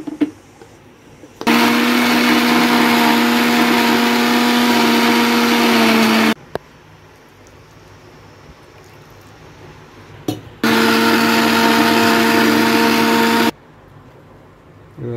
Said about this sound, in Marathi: आता मिक्सरला लावून ग्राइंड करून घ्यायचं आहे.